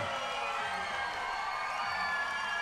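Arena crowd cheering and roaring steadily as a WKA amateur 154-pound world champion kickboxer has the title belt put around his waist, a dense, continuous wash of voices with no pauses.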